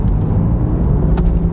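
A BMW M4 accelerates under throttle, its loud, deep engine rumble steady and close throughout a brief burst.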